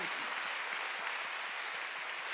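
A church congregation at a Sunday worship service claps together in a brisk, even rhythm, the applause moderately loud and unbroken by talk.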